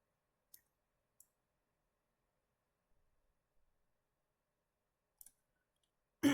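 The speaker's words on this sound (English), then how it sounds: "I'm doing this by just clicking random spots on these slide" Sparse, faint mouse clicks while photo-editing slider menus are adjusted, a few isolated sharp ticks spread through near silence, ending in a louder burst of noise.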